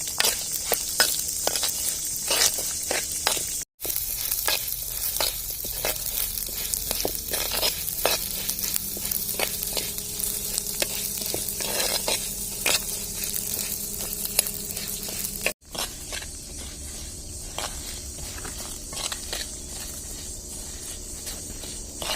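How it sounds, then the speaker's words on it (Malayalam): Lentils, green chillies and garlic frying for Kerala parippu chammanthi while being stirred in a pan, with a steady crackling sizzle and frequent scraping strokes, close and continuous with no speech. "പച്ചമുളകും ഇടാം. വെളുത്തുള്ളി ഇടാം. ഇതൊരു ഇളം ചുവപ്പ് കളർ വരെ വറക്കണം"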